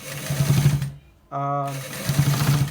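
A sewing machine runs steadily while stitching the back part of a garment neck design, stops briefly while a voice speaks in the middle, then starts up again.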